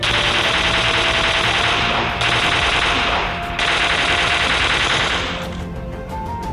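Sustained automatic rifle fire in PUBG Mobile during a rush, loud continuous bursts broken by short pauses, the spray tapering off near the end.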